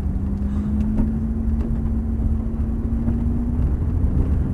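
A Ferrari F430 pulling away gently on a track, a steady low engine drone with a sustained tone from inside the car, no talking.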